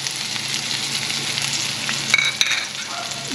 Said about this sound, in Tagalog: Ilagay po natin ang itlog. Gisa na po tayo.